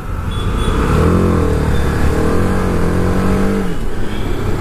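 A 2019 TVS Apache RR 310 motorcycle with slipper clutch revs hard, its engine note rising and falling in steady sweeps, loud and close over constant wind and road rumble, with no voices.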